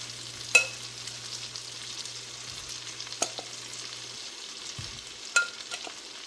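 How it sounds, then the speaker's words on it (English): Shrimp seasoned with Tony's Creole seasoning sizzling in a pan over high heat for a creamy shrimp pasta: a steady frying crackle with occasional sharp clinks of a utensil, close, with no talking. "After we put this shrimp in there, we're going to turn the heat up."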